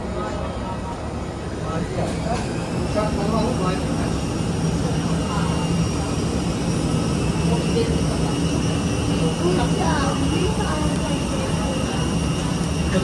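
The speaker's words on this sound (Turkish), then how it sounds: "uçağı yakıt dolduruyorlar" Airport apron with a fixed-wing airplane being refuelled through yellow hoses, a loud continuous jet engine whine and drone with steady tonal hum, and people talking nearby.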